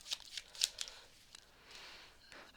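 A deck of playing cards being shuffled, with a few quick riffling bursts of crisp papery flicks early on, then softer faint card rustles trailing off.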